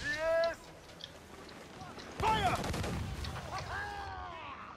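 Ship cannons in Assassin's Creed IV Black Flag boom in a broad, heavy burst with a rumbling tail, set among rising and falling whistling game effects, with talk in the background.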